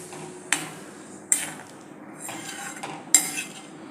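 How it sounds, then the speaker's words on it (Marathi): A utensil stirs potato curry made without ground masala in a metal pan, giving several sharp scraping clinks at irregular intervals over a quiet background, close and without speech. "एकदा व्यवस्थित मिक्स करायचं"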